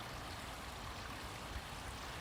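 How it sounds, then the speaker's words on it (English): Waterfall at the Evergreen Brickworks, a steady broadband rush of falling water heard close and constant, with no pauses or talk over it. "You could hear the waterfall"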